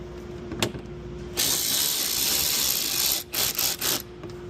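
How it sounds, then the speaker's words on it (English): A 3/4 inch bolt being driven into a U-nut on a Toyota 4Runner splash guard, a power tool whirring in a loud sustained burst, followed by several short stuttering pulses and a few faint clicks nearby. "we've got our next 3/4 inch bolt that's going into the U-nut"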